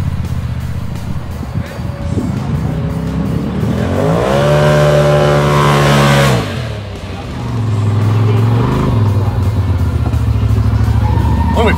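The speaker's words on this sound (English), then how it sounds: "I noticed my buddy Steve Swain was getting pretty rowdy out there on a turbo RazR" A turbocharged Polaris RZR side-by-side revs hard on a ride, its engine climbing in pitch, holding a loud high whine, dropping briefly, then roaring again close to the listener.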